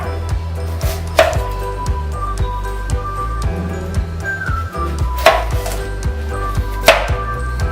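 Cucumber cut into large chunks, skin and seeds left on, for chutney: a few sharp knife strikes on a board stand out over steady background hum, close and fairly loud, with no voices.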